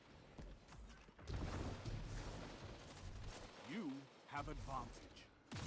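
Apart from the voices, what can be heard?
grenade launcher gunfire in the video game Dead Messenger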